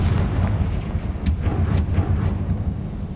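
Confringo fire spell exploding in Hogwarts Legacy: a loud, continuous low rumbling blast with a couple of sharp cracks cutting through, filling the whole stretch with no talk.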